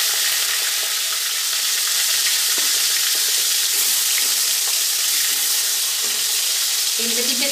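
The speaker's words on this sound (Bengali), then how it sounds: "আগে পেটেরগুলো ভেজে নিচ্ছি।" Rohu fish belly pieces fry in hot oil, a loud, dense, unbroken hiss and crackle that stays close and steady throughout, with no voices.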